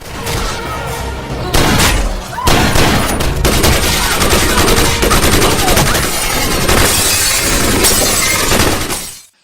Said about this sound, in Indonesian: Suara tembakan sampai terdengar keluar hotel.